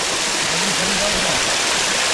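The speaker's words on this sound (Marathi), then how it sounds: "नुकता पाणी येता आमच्या व्हाळाचा." A small village stream in Konkan rushes in a monsoon downpour, a dense, loud, unbroken wash of water with a voice speaking over it.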